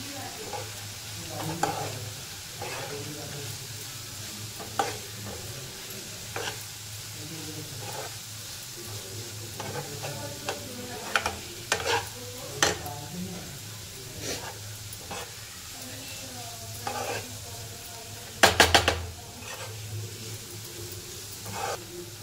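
Tomato bhaji masala sautés in a pan with a steady sizzle while a spoon stirs and scrapes in repeated knocks, one louder clatter near the end, and faint talk now and then.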